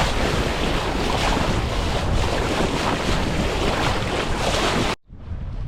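A sailboat under sail with no motor running moves through ocean waves, a loud continuous rush of water and wind buffeting the microphone, then an abrupt cut to quieter wash near the end.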